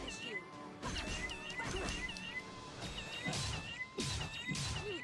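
Cat meows from the video game Indivisible, during a cat boss fight: repeated high, wavering meows in quick succession mixed with hits and crashes of combat, fairly quiet in the game audio.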